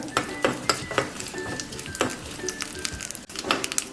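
Curry leaves and urad dal sizzle and crackle in hot tempering oil for a pumpkin chutney, with a steady close frying hiss and several sharp spoon-against-pan clinks as the mixture is stirred.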